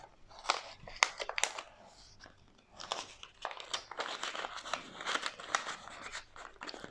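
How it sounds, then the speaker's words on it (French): Paper banknotes handled and slipped into a paper envelope, close crinkling and rustling in irregular bursts with a short quiet pause partway through. "je vais remettre 30 dans l'enveloppe"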